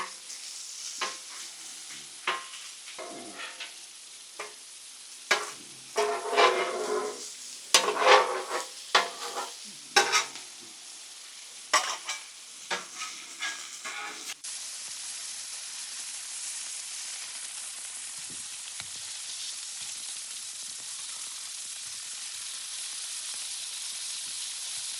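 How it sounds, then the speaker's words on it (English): Bacon and onions sizzling and being stirred on a flat-top griddle, a steady crackling hiss broken by sharp scraping bursts of the spatula, then settling into an even sizzle. "as the bacon cooks, as the onion cooks"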